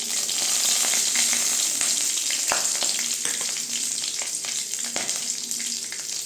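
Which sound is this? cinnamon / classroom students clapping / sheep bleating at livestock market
cinnamon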